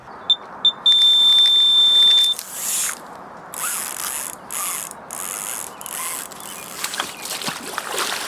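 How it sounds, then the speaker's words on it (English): A carp fishing reel's clutch screams as a hooked fish runs: a loud, continuous ratcheting buzz with a high, piercing whine, starting with a couple of short clicks and then holding steady and close with no voices. "all you can hear is the clutch just screaming and screaming and screaming"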